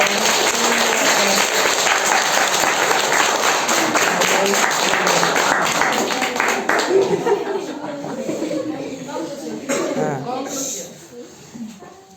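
A roomful of schoolchildren and teachers at a primary school in Pedro Juan Caballero applaud during a science lesson, a dense burst of many hands that thins out after about seven seconds while voices chatter.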